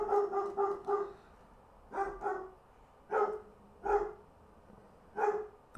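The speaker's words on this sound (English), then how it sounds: "And I hate that dog." A dog barks in five short clusters, each a quick run of sharp, mid-pitched barks separated by pauses of about a second, fairly close and clear with no other voices.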